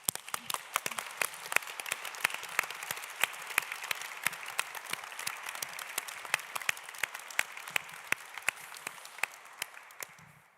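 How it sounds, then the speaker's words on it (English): Seminar audience at a church round table applauding, a sparse group of distinct claps with clear individual hand strikes, steady for about ten seconds then stopping. "These applause really express our thanks"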